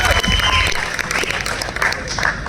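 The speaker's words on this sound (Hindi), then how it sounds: "मैं चाहूंगा एक बार जोरदार तालियां." Applause from an audience at a business meeting, dense clapping mixed with crowd murmur and some voices, loud and steady throughout.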